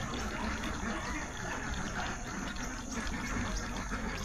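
Water pours from an open pipe at a duck house built for cold places, a loud continuous gushing splash heard close by throughout.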